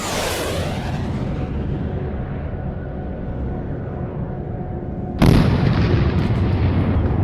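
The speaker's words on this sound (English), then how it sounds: "First, aerial bombardments crippled Iraq's military infrastructure." Aerial bombardment explosions from an animated war film about the Iraq–Kuwait conflict: a continuous loud rumble of blasts, then a sharper, heavier detonation near the end that keeps roaring on.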